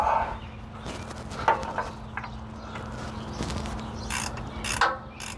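A ratchet tightens the differential fill plug on a 2018-or-later Ford Expedition, with a soft, close series of quick clicks in irregular bursts over a faint background hum.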